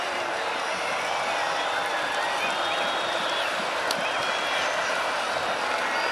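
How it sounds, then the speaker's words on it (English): A large stadium crowd at a college football game at Huntington Bank Stadium roars steadily, a dense, sustained wash of cheering and noise that stays loud throughout with no break. "the crowd is coming here at Huntington Bank Stadium"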